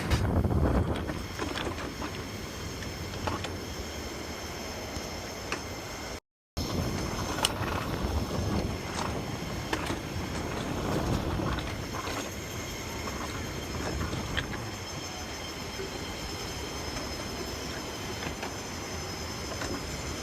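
An alpine coaster cart on a mountain track at Da Lat, Vietnam, rumbles and rattles steadily with wind rushing past, a continuous close ride noise with a brief dropout.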